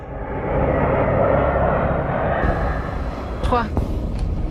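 Airplane in flight in a film scene, a steady loud roar of engine and rushing air that swells and holds, with brief sharper sounds near the end under narration.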